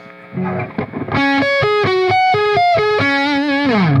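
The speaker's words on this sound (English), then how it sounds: "hopefully you could hear when I switch between the pickups how like milky the front pickup can sound" Distorted electric guitar playing a quick run of chords and notes, the tone shifting in brightness partway through as it switches between pickups, loud and close.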